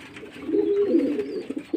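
Domestic male pigeons coo in a low, warbling murmur close by during bath time, a steady throaty rolling sound with a few soft pulses and no talking.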